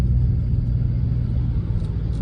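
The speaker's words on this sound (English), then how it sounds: "That's another common thing that people notice, is that you don't have to tune these cars to make all of the cool exhaust notes." Low, steady exhaust rumble from a Mustang Cobra, a deep continuous drone close by with slight wavering burble and no voices over it.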